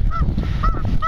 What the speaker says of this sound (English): Goose. Geese.